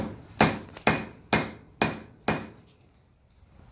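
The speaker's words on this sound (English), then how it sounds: "Anywhere that gives you any resistance, just hammer it some more." Five sharp, evenly spaced hammer blows ring out close up as a stuck part is knocked loose during a Saylor Beall air compressor rebuild, followed by quiet.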